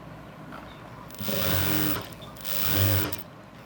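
A sewing machine runs straight stitching along a blouse sleeve in two short bursts, a close, whirring mechanical hum that starts and stops with a pause between.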